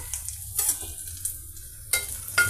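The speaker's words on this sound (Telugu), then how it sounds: "మన వెజిటబుల్ పీసెస్ ఈ విధంగా ఫ్రై అవుతున్నాయండి" Oil sizzles softly in a pan as vegetable pieces fry for pulao, with intermittent stirring scrapes and clatters, no voices.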